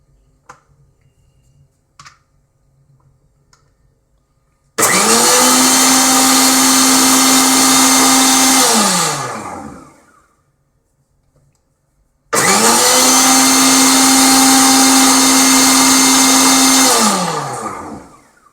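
Electric mixer whipping cream into butter at home, two loud continuous whirring runs of about four to five seconds each, winding down at the end of each, after a stretch of quiet light clicks.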